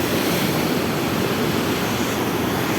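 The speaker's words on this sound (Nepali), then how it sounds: "सप्तकोशीको यो ढोका खोलिएको छ दुईटा, यस्तो पानी जाँदैछ" Water surges through two open gates of the Saptakoshi barrage, a dense, continuous roar with no pauses, loud and close.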